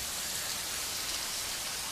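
Fountain of the Deluge at Villa Lante, water splashing and pouring in a steady, dense hiss like heavy rain, constant and fairly close, with no voices.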